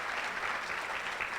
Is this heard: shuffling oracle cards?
no